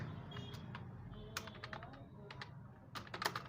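Quiet, close tapping on a computer keyboard while writing web page code, with irregular clusters of keystrokes and a faint background hum.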